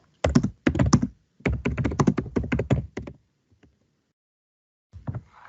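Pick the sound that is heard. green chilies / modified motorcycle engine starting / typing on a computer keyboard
typing on a computer keyboard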